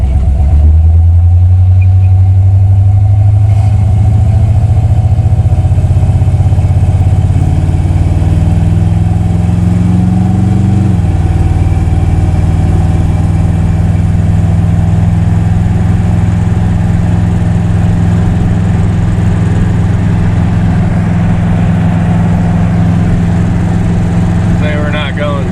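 A 1987 Dodge Dakota fitted with a small-block Chevy 350 drives over gravel, its engine droning loud and steady from inside the cab, rising in pitch then holding, with crunching road noise underneath.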